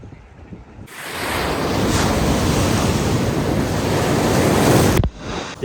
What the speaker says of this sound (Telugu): ఇక్కడ అలలు ఎంత డేంజర్ వస్తున్నాయో చూడండి.